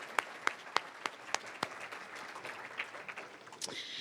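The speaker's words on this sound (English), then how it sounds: "Let's give them a round of applause." Applause from the audience at an annual awards ceremony as sponsors are thanked: a few sharp, separate claps stand out over a low, thin patter of clapping that slowly dies away.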